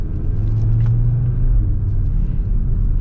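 A 2023 Audi RS3's engine and exhaust give a steady, close, deep rumble, holding even and loud without talk throughout.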